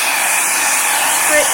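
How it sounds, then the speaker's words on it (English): Hair dryer blowing steadily on wet coffee-stained paper laid under a plastic doily, a close, constant airy hiss that holds evenly throughout with a slight swell near the end. "And then you get your hair dryer, and you turn it on, and you just dry"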